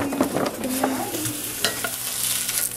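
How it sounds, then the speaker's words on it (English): Eel pieces frying in a pan give a steady, close sizzle with intermittent scraping and stirring clatter from a utensil, loud and continuous throughout. "We didn't even know how to make eel. We're just kind of frying."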